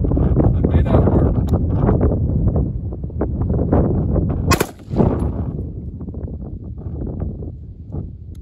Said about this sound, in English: I'm gonna try to bump fire this thing.